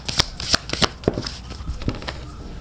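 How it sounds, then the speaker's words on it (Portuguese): Oracle cards being shuffled and drawn from a deck, a quick run of crisp riffling snaps and soft flicks close to the microphone, with no talking. "Vamos ver se eu tiro quatro no fundo do baralho"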